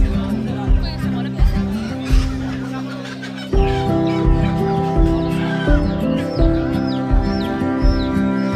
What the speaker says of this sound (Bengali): এখানে সব দেশি মুরগি, পাকিস্তানি মুরগি, পিস 100 টাকা